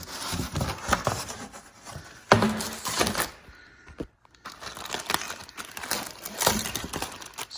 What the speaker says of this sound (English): I'll get the plastic off there